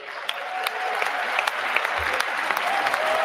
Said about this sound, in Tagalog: panay na yung palakpak ni Biden tsaka ni Harris